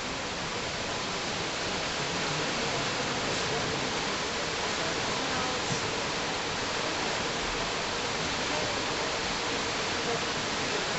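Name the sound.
rushing wild river water from mountain snow melt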